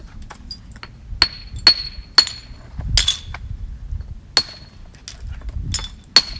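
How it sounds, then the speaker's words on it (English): A light hammer taps obsidian to trim its edges during knapping, giving sharp glassy clinks spaced about a second apart, close and crisp against a soft low rustle. "We're going to go ahead and work this down, just some nice light hits here to trim the edges down"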